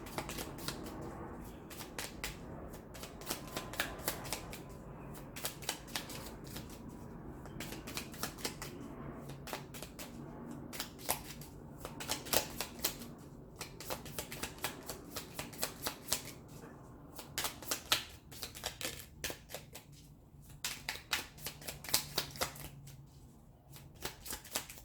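Oracle cards shuffled by hand in repeated bursts of crisp riffling and flicking, steady and close throughout with no talking.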